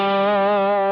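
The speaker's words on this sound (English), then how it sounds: "That's pretty much the distortion sound I use for that." A single sustained electric guitar note with heavy distortion from a Boss GX-100 processor, thick with buzzing overtones, holds steadily at full volume for about a second.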